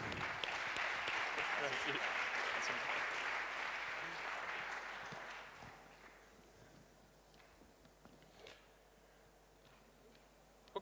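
Applause at an e-commerce awards ceremony swells, holds for several seconds, then fades out, leaving a quieter room where a single voice speaks briefly.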